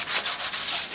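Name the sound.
sanding primer with 240-grit sandpaper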